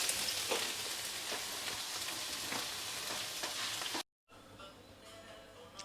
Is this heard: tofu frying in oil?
yes